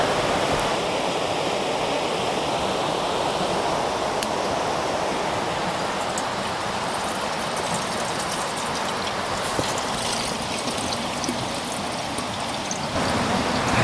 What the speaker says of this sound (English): if we undo the hose clamp, we basically have clean water flowing